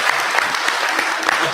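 A short burst of steady applause from a crowd, dense clapping throughout with no pauses.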